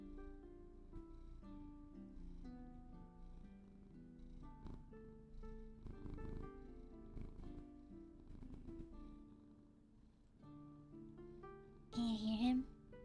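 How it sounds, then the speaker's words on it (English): A cat purrs up close with a soft, continuous rumbling throb, and a brief voice is heard near the end. "He's purring."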